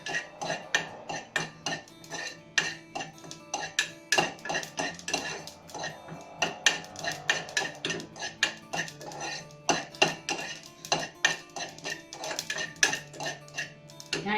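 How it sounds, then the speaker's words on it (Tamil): Sesame seeds roasting in a pressure cooker for a one-pot puliyodharai, with dense, rapid metallic scraping and clinking of a spoon stirring against the pot throughout, close and steady, with no talking. "எள்ளு கொஞ்சம் வெடிக்கிற அளவுக்கு வறுத்துக்கலாம்."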